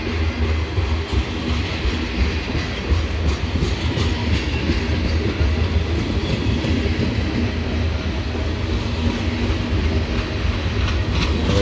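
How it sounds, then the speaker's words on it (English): A CSX freight train rolls steadily past near Cumberland, Maryland, its cars including flat center beams and an old 1976 gondola clanking and rumbling loudly and continuously with rhythmic wheel clatter, no voices over it. "The end of the train down yonder."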